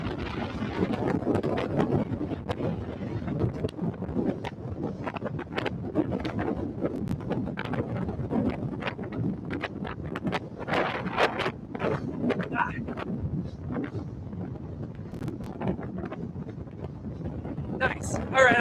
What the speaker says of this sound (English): this wind is getting to me